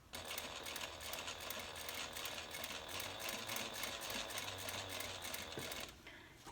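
A sewing machine with a zipper foot hums steadily and close while stitching an internal zipper pocket on a handbag, its needle chatter continuous until it stops just before the end.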